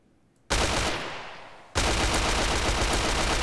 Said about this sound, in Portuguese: Deu um tiro já no cara ali